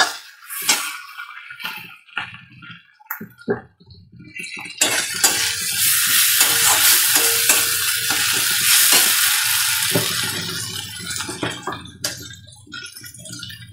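A masala of onion, tomato, ginger-garlic paste, cumin paste and green chilli fries in a pan, with a loud sustained sizzle and irregular scraping and clinking stirring strokes, close and without talk.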